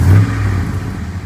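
Swapped LS V8 in a 1985 Chevy C10 pickup idling rough after a cold start, rising in a brief gentle rev with a steady low rumble, close and fairly loud.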